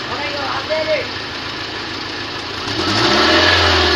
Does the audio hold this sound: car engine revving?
yes